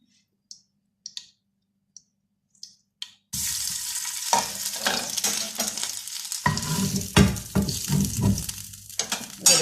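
Chapli kabab is lowered into hot oil and starts frying with a loud, steady sizzle and bubbling, after a few quiet clicks.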